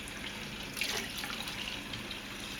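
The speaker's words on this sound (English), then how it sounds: "I'm just going to refill it with some water." A kitchen tap runs steadily into a kettle as it is refilled, a continuous close hiss of flowing water with no pauses.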